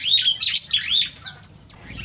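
Birds in a breeding aviary chirp and tweet busily at close range, with rapid overlapping high calls that thin out briefly before picking up again.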